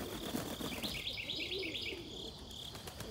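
Young Indian fantail pigeons chirp in a quick series of thin, high peeps in a backyard loft on a chilly morning, faint and a little distant over a steady buzz of insects.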